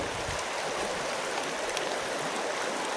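Lower Fish Creek, a river reached along railroad tracks, flows with a steady, even rush of water that holds constant throughout, with no voices or other sounds.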